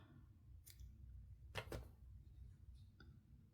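Scissors snip white crochet yarn in a few quick crisp cuts, a double snip in the middle and fainter single snips before and after, close and quiet.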